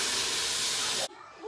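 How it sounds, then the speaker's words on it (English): Beef for rabo encendido browns in a hot pot with a loud, steady sizzling hiss that cuts off abruptly near the end, leaving faint background noise. "We're gonna go ahead and brown the meat on all the sides, 3 to 4 minutes, as usual."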